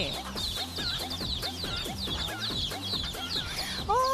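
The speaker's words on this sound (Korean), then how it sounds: "이번에 만난 동물은 앙증맞은 병아리들." A flock of small baby chicks peeps continuously in high, quick, downward-sliding chirps, many birds overlapping close by with no talking.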